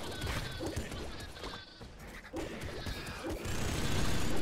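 Sheep bleating in the video game Nuclear Throne Ultra Mod, with short bleats mixed into dense, loud game noise of shots and crashes during a boss fight.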